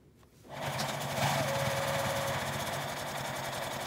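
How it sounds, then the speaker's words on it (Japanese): A sewing machine starts up and hums in a continuous even buzz while topstitching along the edge of fabric for a baby backpack. The sound is close and steady with no talk. "端ミシンをかけます。"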